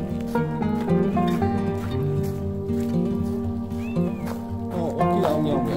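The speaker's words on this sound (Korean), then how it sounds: "어떻게 야옹야옹해?" Several cats in a countryside home meow repeatedly over a dense musical background, with some meows rising above it toward the end.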